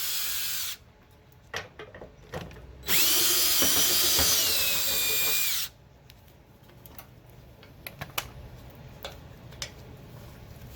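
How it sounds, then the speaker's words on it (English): A DeWalt power screwdriver removes fender screws on a Scion tC, with short motor whirs, then a longer sustained high whine, followed by ticking and clicking of the screws and tool being handled. "So now a lot of times I'll just use a DeWalt screwdriver."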